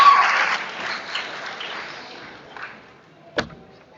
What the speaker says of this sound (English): One more round of applause to all of you seniors.